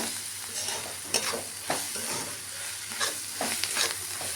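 Fried rice masala being stirred through an oily mixture in a hot pan, a dense close sizzle broken by repeated spoon scrapes and knocks against the pan at an uneven pace, no speech.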